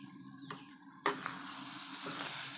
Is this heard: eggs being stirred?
yes